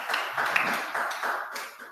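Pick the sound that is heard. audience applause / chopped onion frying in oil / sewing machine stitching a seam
audience applause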